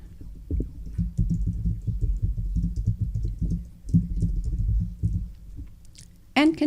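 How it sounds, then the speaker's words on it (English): Soft, close keystrokes clatter on a computer keyboard in quick irregular runs with brief gaps, ending with a sharper click. "So you would type in the name of the landlord."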